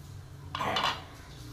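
A metal lid comes off a pot of boiling meatball soup with a brief clatter and scrape, then the steady rush of the simmer continues; close but soft, no one speaking.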